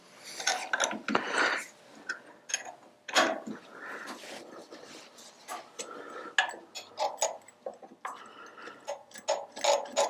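Hand tools ticking and clicking on a milling machine setup as a bolt is loosened, with scattered metallic taps and rasps at close range, no talk heard.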